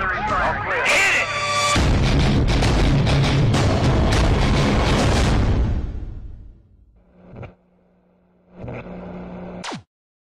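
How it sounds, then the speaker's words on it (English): Artillery fire in a war video game: a loud sustained barrage of booming blasts and rumble that fades out, followed by short radio-style voice bursts and game sounds. "Artillery fire."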